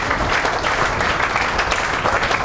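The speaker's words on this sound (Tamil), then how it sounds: "நீங்க கையால கைத்தட்டி அவருக்கு உரிய அந்த மரியாதை நீங்க கொடுக்கணும் தானே" An audience at a school event claps hands in a steady, dense burst of applause that fills the whole moment without pause.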